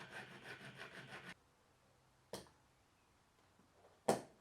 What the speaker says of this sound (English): Beveling the edges of the frets freehand seemed to work okay